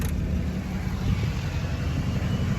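An LBZ Duramax diesel truck idling on a stock, untuned exhaust, a steady low drone that stays even and close throughout, with no voices.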